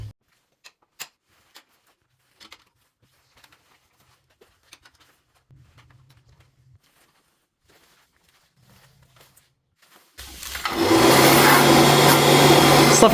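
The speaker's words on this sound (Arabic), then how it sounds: "كينشف الحوايج عن طريق انه كيسف الهواء من هنا من تحت وكيصوتو من هنايا سخون على الحوايج" An electric clothes dryer that blows hot air from underneath stays nearly silent apart from faint scattered clicks and a low hum, then its blower kicks in abruptly: a loud, steady rushing whir with a low hum that continues to the end.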